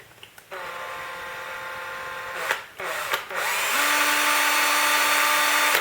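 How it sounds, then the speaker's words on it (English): A power drill whirs in short bursts, then runs at a steady high-pitched whine as the threaded rod spins to thread on nuts, close and loud. "The easiest way is to get the threaded rod in the drill"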